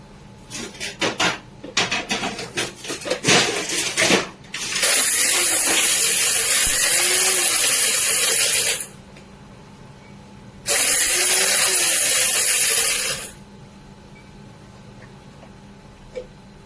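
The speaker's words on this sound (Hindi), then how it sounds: "ग्राइंड हमें दरदरा ही करना है, फाइन पाउडर नहीं करेंगे।" Mixer grinder coarsely grinding spices on pulse, two loud, close bursts of high whirring lasting several seconds each, separated by a pause, after a stretch of clattering kitchen handling.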